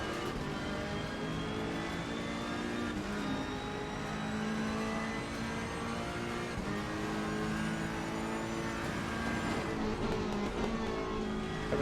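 Race car engines whine steadily in Assetto Corsa Competizione at Brands Hatch, a pack of GT cars including a red BMW running close together with a constant, layered high-revving drone and no talking.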